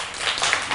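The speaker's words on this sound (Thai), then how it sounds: "ปรบมือให้ปฏิภาณหน่อยเร็ว" Students in a Thai primary-school classroom applaud a classmate, a brief burst of dense clapping filling the moment, close and steady.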